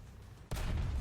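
A tank cannon shot in the War Thunder video game, fired at an enemy Leopard tank, lands as one sudden loud boom midway, cutting through a low engine hum and leaving a heavy, rumbling tail.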